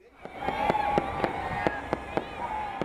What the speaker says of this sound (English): That fireworks program you see at the Space Needle every year?